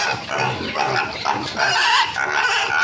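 Pigs on a piggery grunt and squeal close by in a busy, overlapping chorus with bursts of higher-pitched cries, and a person speaks briefly among them.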